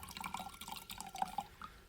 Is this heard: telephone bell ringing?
no